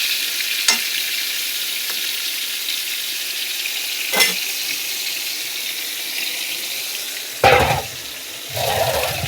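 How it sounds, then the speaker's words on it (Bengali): Slices of pointed gourd fry in hot oil in a pan with a loud, continuous sizzle, broken by a few sharp clatters and a burst of running water near the end. "এই যে হচ্ছে পটল ভাজা"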